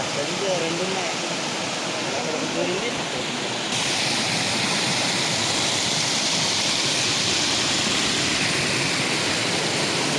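The Tatiguda waterfall gives a loud, steady rushing roar of falling water throughout. A voice is faintly heard over it near the start.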